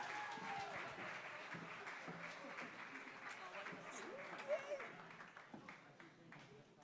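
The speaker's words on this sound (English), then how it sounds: "Can everyone give Nest a massive round of applause?" Faint applause from an awards ceremony audience runs under chatter and murmuring voices, a thin scattered clapping that fades gradually toward the end.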